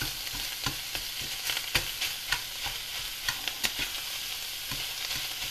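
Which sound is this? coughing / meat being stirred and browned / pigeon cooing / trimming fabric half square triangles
meat being stirred and browned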